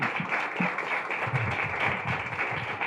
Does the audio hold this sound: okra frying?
no